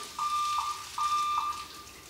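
A wet-pipe sprinkler system water flow alarm, triggered through an alarm check valve and pressure switch, sounds in two steady, high-pitched beeps of about half a second each, clear and fairly close, over a faint background hiss.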